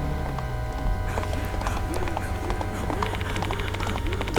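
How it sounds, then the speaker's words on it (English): A horse's hooves clip-clop in a video game scene, a rhythmic run of hoofbeats that grows denser over a steady background of game ambience. "The horse footsteps were getting closer and closer, and now they could hear its rough breathing."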